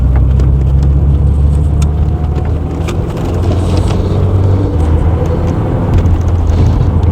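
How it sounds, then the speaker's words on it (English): MG F sports car engine running steadily with a low, continuous rumble, dipping briefly around a gear change before pulling on again, heard from inside at close range with no talk. "Very delicate gear change there."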